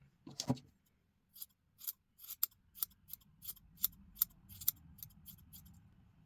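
Scissors trim a two-toned yarn pom-pom, giving a series of about a dozen crisp, close snips in an irregular rhythm after a soft handling rustle.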